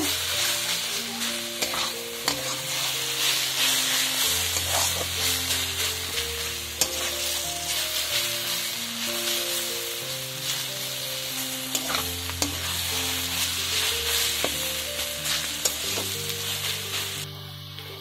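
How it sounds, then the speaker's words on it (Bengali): Grated carrots frying in oil with sugar added are stirred continuously for a Bengali carrot dish, a steady broadband sizzle under clicks and scrapes of a spatula, with background music throughout. "চিনিটা দেওয়ার পর আবারও ভালো করে নাড়াচাড়া করে নেব।"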